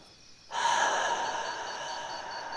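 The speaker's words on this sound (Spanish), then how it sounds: "Hacemos una segunda respiración, cogiendo el aire por la nariz" A slow, deep breath drawn in through the nose during a guided meditation, a soft steady airy hiss that begins after a half-second pause and holds evenly to the end.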